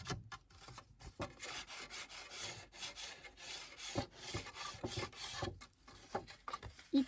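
Paper edges being inked with an ink pad for a scrapbooking mini album: soft, close, repeated rubbing and rasping strokes in an uneven rhythm, with no talk.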